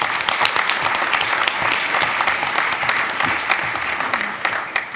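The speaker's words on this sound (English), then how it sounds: "Let's give yourself a round of applause." An audience at a school board meeting applauds in a dense, continuous wash of clapping that holds steady and close throughout.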